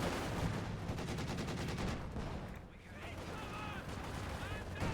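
Steady gunfire and rumbling battle noise from a Company of Heroes 2 match as a T-70 light tank fires away, dense and continuous with rapid shots throughout and a brief dip midway.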